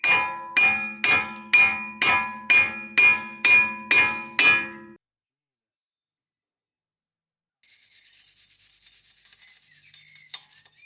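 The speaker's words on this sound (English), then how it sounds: "So I've given it a quick brush with a wire brush." A wire brush scrubs a corroded brake hub on a Suzuki Swift Sport in eight quick, even, ringing strokes with a metallic resonance. Silence follows, then faint scratchy noise.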